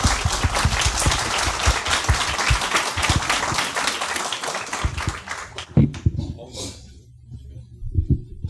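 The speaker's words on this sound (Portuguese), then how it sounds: "damos palmas" Applause from a congress audience welcoming a comics conference speaker, dense clapping filling the room for several seconds before tapering off into scattered claps and quiet near the end.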